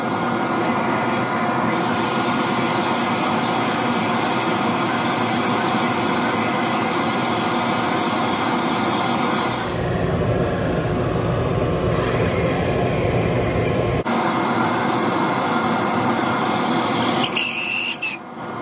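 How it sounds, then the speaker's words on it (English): A drill bit bores into an ebonite fountain pen cap on a lathe, a loud continuous whirring grind that shifts in tone partway through and carries on without speech. "I have my drill bit marked right here at 2 3/8 inch deep into the cap."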